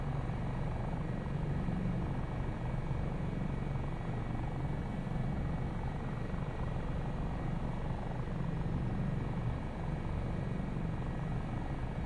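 Steady, loud helicopter drone from inside the cabin in flight, a continuous low rotor and engine rumble with no break.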